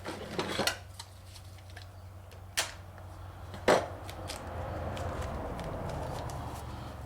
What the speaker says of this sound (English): Get this pack open here on the knife.